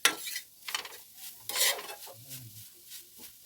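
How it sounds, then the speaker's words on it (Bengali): Grated coconut stirred with ghee in a pan: a spoon scrapes and rasps against the metal in several quick strokes, with a faint sizzle underneath, fairly quiet and close. "ভালো করে নাড়িয়ে নেবো নারকেলটাকে।"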